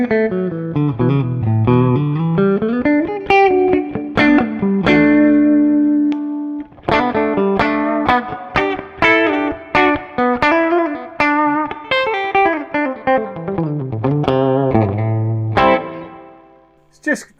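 A PRS electric guitar on its middle single-coil pickup, played through a Fender Showman amp plugin: clean melodic runs and picked single notes with a few sustained chords, bright and loud, with reverb and chorus-like shimmer.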